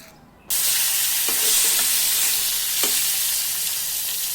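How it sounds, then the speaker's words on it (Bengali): Fish frying a few pieces at a time in a small wok: after a brief quiet moment a loud, steady sizzle bursts in and holds, with a couple of faint stirring scrapes beneath it. "তাই মাছ অল্প অল্প করে দিয়ে ভাজতে হয়"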